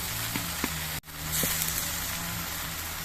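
Vegetables fry in a pan with turmeric powder, giving a steady, close hiss of sizzling oil with a brief dip and a few soft pops.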